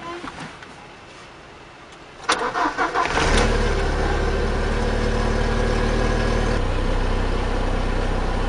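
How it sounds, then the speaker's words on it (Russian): After a fuel pump replacement, an Audi A6 or Passat B5 engine cranks with a few rapid starter pulses, catches, and settles into a steady, loud idle nearby with no talking. "Пробуем заводить автомобиль."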